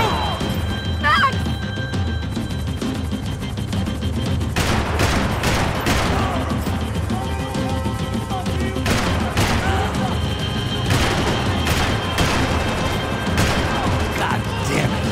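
Gunfire from the video game Max Payne 3, dense bursts of shots and crashes over a loud, busy action mix, with shouted voices in between.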